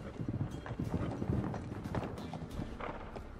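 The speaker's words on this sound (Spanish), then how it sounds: "estoy escuchando caballos" Horses clip-clop nearby in The Witcher 3, a steady run of hoof beats under ambient background noise, moderately quiet with no speech.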